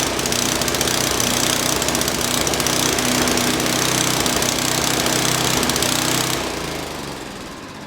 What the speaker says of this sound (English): That actually started revving really high, and that's not good.